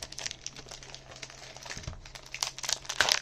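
A Pokémon card booster pack wrapper is crinkled and torn open nearby, with crackling plastic rustles building to louder tearing bursts toward the end.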